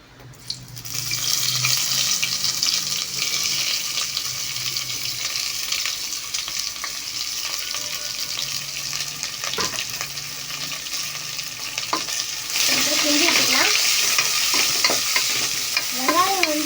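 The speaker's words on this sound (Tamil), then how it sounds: "கோல்டன் கலர் வரது வரைக்கும் நல்லா கிண்டி விட்டுக்கணும்" Onions and biryani spices frying in a pot, stirred steadily with a spoon, a loud continuous sizzle with scraping strokes and brief clinks near the pot, no speech.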